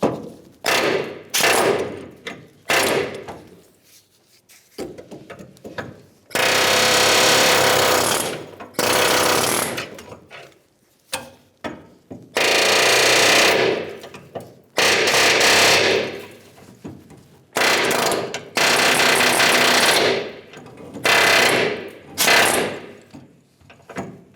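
An air chisel hammers off rivet nubs on the rear shock mount bracket of a 1992-1996 Ford F-150 frame, firing loud, close, rapid-fire rattling bursts of a second or two each, separated by short pauses and clanks.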